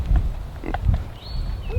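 A Kune Kune pig grunts up close in a pen, a few short low grunts in quick succession, with a thin high whistle-like tone sliding in near the end.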